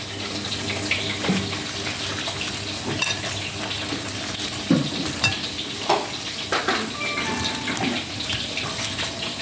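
Sun-dried fish fries in hot oil until crispy, giving a steady dense sizzle and crackle with occasional stirring clinks and scrapes, close and continuous.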